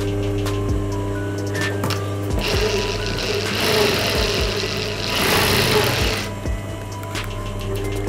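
A sewing machine runs steadily, joining long ribbon-like fabric strips for a blouse, with a low motor hum throughout and a faster, louder burst of stitching in the middle, close and alone without speech.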